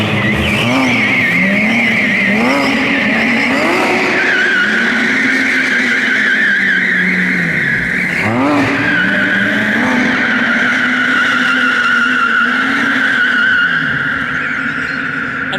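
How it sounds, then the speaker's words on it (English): A Porsche 911 R spins donuts at close range, its tires squealing in long wavering skids over a loud, revving engine that rises and falls with each turn. "having a 911R doing a donut around you"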